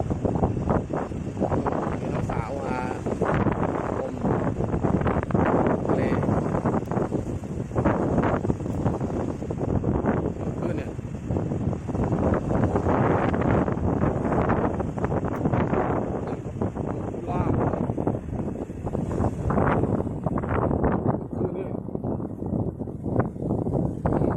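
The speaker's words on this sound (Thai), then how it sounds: "ลมโคตรแรงเลย" Strong wind buffets the microphone on a beach at Ao Khung Kraben with heavy surf, a loud continuous roar with gusty surges throughout and no speech.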